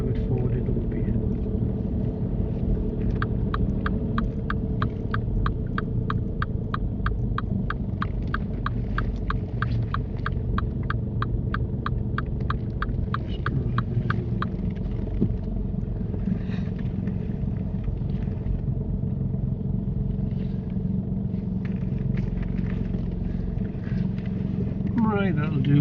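A car engine hums steadily at low speed as it creeps forward during a UK driving test, with a rapid ticking indicator partway through and people talking inside the cabin.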